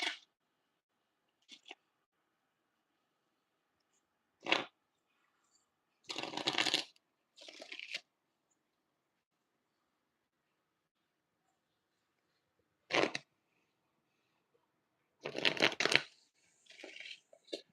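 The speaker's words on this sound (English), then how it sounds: "I'm gonna pull you two cards upon your request." Tarot cards shuffled and pulled from a deck: short papery riffles and snaps in separate bursts with quiet gaps between, fairly close and soft, no talking.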